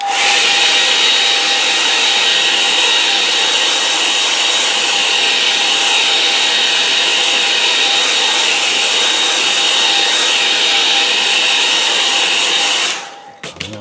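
A hair dryer blowing on a watercolour painting, a loud, steady, close whoosh and whine lasting about thirteen seconds before it abruptly cuts off.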